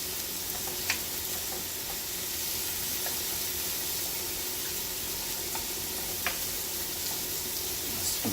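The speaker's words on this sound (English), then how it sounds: "You want butter with your steak. That butter nice and melted in there." Butter melts and sizzles in a pan with frying skirt steak, a steady close crackling hiss with scattered pops throughout, no voices.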